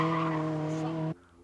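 A Toyota AE86 drifts on snow, its tires giving a loud, sustained tonal squeal that holds steady for about a second and then cuts off sharply into quiet.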